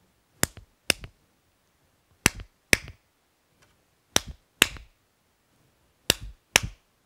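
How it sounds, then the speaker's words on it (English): Hands clapping in a steady pattern of two sharp, close claps followed by a pause, repeated four times with silence between pairs. "We are clapping 1, 2, then a pause."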